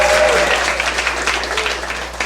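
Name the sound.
audience applause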